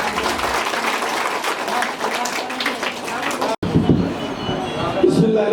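Audience applause at an award ceremony for scholarship students at a Nazrul-named school: dense, steady clapping fills the clip, broken by a brief cut, then a mix of claps and crowd noise.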